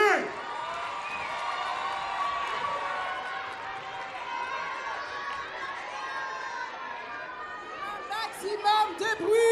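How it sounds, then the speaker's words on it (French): An audience at a dance school's 25th anniversary gala cheers and applauds steadily, a broad, roomy crowd noise throughout, with louder whoops and shouts rising near the end. "Applaudissez-les s'il vous plaît."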